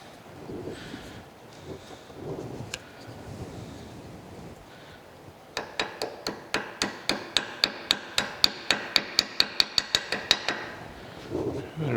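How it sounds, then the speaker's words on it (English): A smaller ball peen hammer strikes metal while an old Bijur machine oiler is rebuilt: about twenty sharp, evenly spaced ringing taps close by, after a stretch of quiet handling noise. "Let me get a smaller ball peen hammer."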